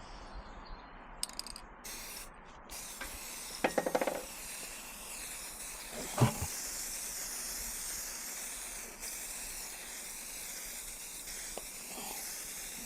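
Rust-Oleum Specialty Color Shift spray paint hisses from an aerosol can in a long steady faint stream, broken by a few quiet clicks and knocks.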